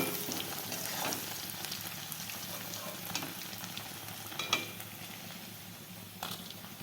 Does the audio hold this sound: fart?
no